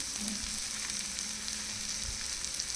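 Finely chopped coriander and wild greens frying in a pan, a steady close sizzle and crackle with no talking.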